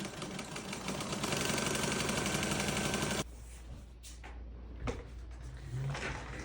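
A domestic sewing machine back-stitching a quilted Christmas tree skirt runs in a fast, close mechanical whir for about three seconds, then stops, leaving quieter handling clicks and rustles.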